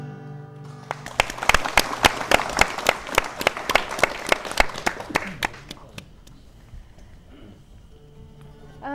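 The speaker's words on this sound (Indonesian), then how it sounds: "Sekali lagi tepuk tangan Gundul-gundul untuk patso" Audience applause at a live TVRI Central Java studio show after an acoustic performance: a steady burst of clapping for about five seconds that then fades, with a voice briefly over it.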